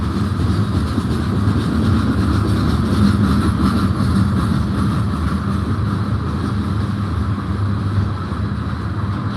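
A BNSF freight train with short Cargill tank cars passing, a loud continuous rumble and rolling rattle of wheels on rails that holds steady throughout.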